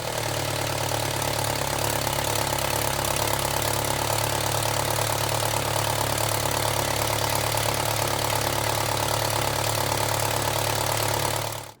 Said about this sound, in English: I have finally got those wheels turning, the drive shafts turning, I've got pistons firing